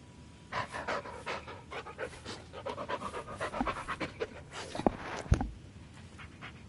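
A dog pants hard and close in quick, rhythmic breaths that grow louder and busier toward the end, with no talking over it.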